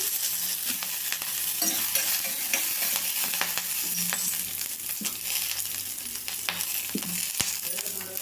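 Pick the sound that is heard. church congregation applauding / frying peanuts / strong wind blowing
frying peanuts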